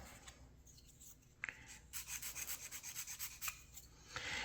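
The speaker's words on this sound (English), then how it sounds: "And we're having to file this down." A hand file rasps against a small wooden part for a model Norwegian sailing pram, in a quick run of even back-and-forth strokes, close and fairly faint, with no voices.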